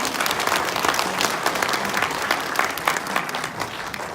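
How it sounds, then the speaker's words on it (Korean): Party members at a new-member education event in Korea give sustained applause, a dense, even roar of clapping from a large audience that carries throughout. "큰 박수 부탁드리겠습니다"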